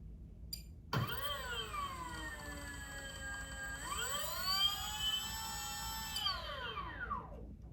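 A King Air turboprop engine spooling up, a rising mechanical whine with layered tones that climbs, holds, surges again and then winds down, fairly loud and close with no voices.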